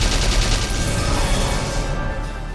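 Gunfire in the tactical video game Valkyria Chronicles: a loud, sustained burst of rapid shots rattles with a deep rumble beneath it, then thins out near the end.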